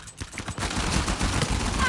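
A P90 firing in an Uncharted 4 multiplayer match, a fast continuous rattle of shots over busy game noise, fairly loud and steady for the whole two seconds.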